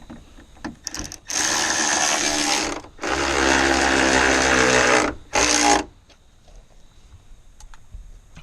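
A ratchet cranks the mounting bolts of an aftermarket tow mirror on a 2003 Ford F250, with two long bursts of rapid clicking and a short third burst, close and loud, followed by quiet handling noises.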